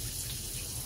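Shower running in a caravan campsite in Durham, a steady close hiss of falling water filling the whole short moment without any voices.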